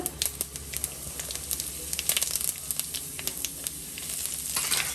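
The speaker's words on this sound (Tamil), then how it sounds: "கடுகு பொரிஞ்சதுக்கப்புறமா உளுத்தம்பருப்பு உளுத்தம்பருப்பு அரை ஸ்பூன் போதும் கடுகு கொஞ்சமாக உளுத்தம்பருப்பு அடுத்தது ஜீரகம் அரை ஸ்பூன் அளவுக்கு" Mustard seeds, urad dal and cumin fry in hot oil for spiced potato rice, giving a close, steady sizzle dotted with sharp little pops and crackles throughout, with no voices.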